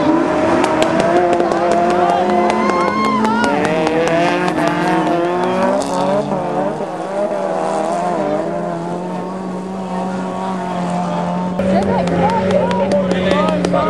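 Race cars in a motorsport race scream past with revving, shifting engine whine, loud and continuous, while a commentator talks over the engines throughout.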